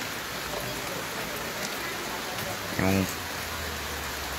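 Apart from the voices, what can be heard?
heavy rain falling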